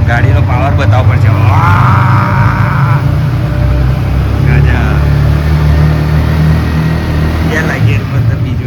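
A motorcycle climbing a steep basement ramp, its engine droning loud and close under an echoing ceiling, with people talking over it.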